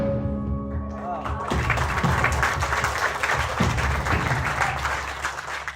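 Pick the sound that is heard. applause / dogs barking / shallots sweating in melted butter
applause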